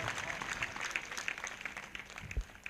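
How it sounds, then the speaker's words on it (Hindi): Congregation clapping in response to a call from a Hindi-speaking preacher during a morning prayer service: quiet, fairly distant scattered applause, with some voices faintly underneath. "एक जोरदार ताली बजाएंगे इस वचन के लिए।"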